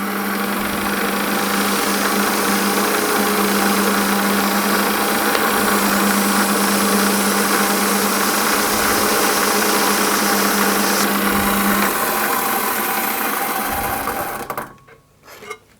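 A metal lathe runs steadily while a part is sanded with 400 grade wet and dry paper, giving a loud, continuous mechanical whine and hum with a faint scraping that holds for about fourteen seconds before the machine winds down.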